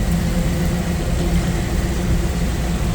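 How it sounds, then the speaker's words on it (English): A 1962 Chevrolet Corvette convertible with its original 327 V8 rated at 300 horsepower idles steadily, giving a deep, throaty exhaust rumble that stays loud and constant at close range. "Not only does it look good, it sounds good. Nice, deep, throaty exhaust note."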